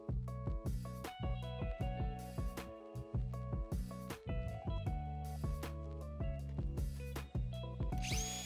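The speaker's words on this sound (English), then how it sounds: "he likes to drill the hole first and then add the screw" A power drill whirs in repeated short bursts, stopping and starting in an uneven rhythm as it drills pilot holes into cedar fence boards, close and fairly loud.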